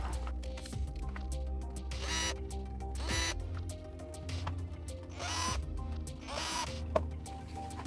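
A small power screwdriver or drill removes two screws from the rear spoiler mount of a RLAARLO AM-X12 RC car, giving several short whirring bursts over a steady background hum, close and moderately loud.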